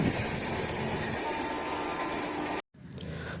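A train running from Kalipara toward Tarakeshwar, heard from inside as a steady, loud rumbling drone that cuts out briefly near the end before resuming, with no talking.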